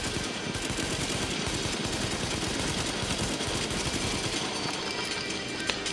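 Rapid automatic gunfire from Tom Clancy's The Division, a dense, loud, continuous rattle of shots that runs unbroken from start to finish.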